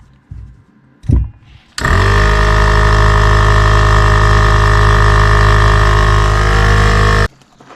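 An RV air compressor pump, newly rewired, starts with a thump and runs loud and steady with a constant motor drone and rhythmic pumping, then cuts off abruptly near the end.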